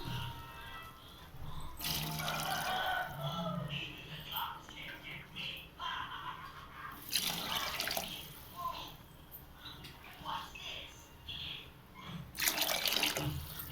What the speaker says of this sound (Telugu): 2 గ్లాసెస్ రైస్కి 4 గ్లాసెస్ వాటర్ అయితే యాడ్ చేసుకుందాం మనం.